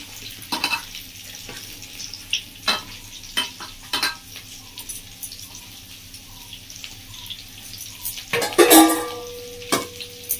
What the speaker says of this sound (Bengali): আমরা সেগুলো খুব বেশি ভাজিনি, দেখুন হালকা করে ভেজে নিয়েছি